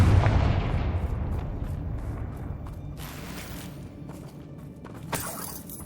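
A Confringo blasting spell explodes in Hogwarts Legacy, with a loud blast up front that rolls off into a long, rumbling decay, followed by a fresh crash of shattering debris near the end.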